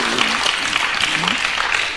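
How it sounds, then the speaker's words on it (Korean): A church congregation applauding steadily, with a preacher's voice speaking over the clapping. "야 박수! 박수, 박수, 박수."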